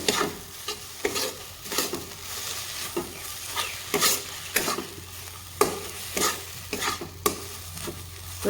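A spoon stirs egg stuffing with coriander leaves in a hot pan, scraping and knocking in a steady rhythm over a low continuous sizzle.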